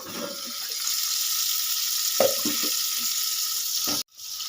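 Cauliflower frying over a medium gas flame in a covered pan, giving a steady, close hiss of sizzling with a few light clinks and knocks. The sizzle cuts out abruptly near the end, then returns more faintly.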